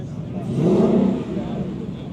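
A supercharged car at a car show gives one quick rev that swells and fades within about a second, with people talking nearby.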